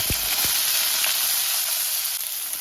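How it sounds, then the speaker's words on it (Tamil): Mustard seeds, urad dal and cumin sizzle in hot oil for a chow chow kuzhambu, a steady loud hiss with a couple of low pops near the start, no talking. "இப்போ இதில் கடுகு உளுத்தம்பருப்பு சீரகம் சேர்த்துப்போம்"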